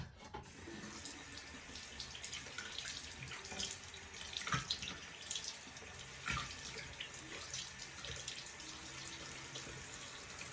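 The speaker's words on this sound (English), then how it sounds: "I need to wet my sponge." Tap water running steadily from a faucet to wet a makeup sponge, a constant close splashing rush with faint variations and no talking.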